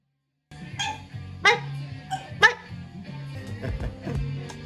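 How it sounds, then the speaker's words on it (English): A dog barks several times in sharp, separate yelps close by, with a busy household murmur underneath. "Shut up, dog!"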